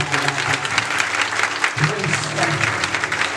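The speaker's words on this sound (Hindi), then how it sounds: "आइए हम सब तालियों को बजाते हुए" A church congregation at a worship conference claps hands together in praise, a steady, full wash of applause over a low musical drone.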